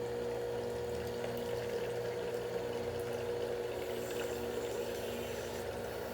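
A PURE juicer press squeezes juice from pulp in press cloths, giving a steady, moderately quiet mechanical hum with liquid trickling underneath, continuous and unbroken throughout.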